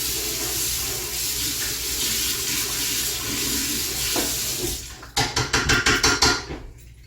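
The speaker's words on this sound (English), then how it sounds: "First, let's rinse off our spoon." Tap water runs steadily into a kitchen sink as a spoon is rinsed, a continuous close hiss and splash, then a quick series of sharp rhythmic knocks and clatters against the sink near the end.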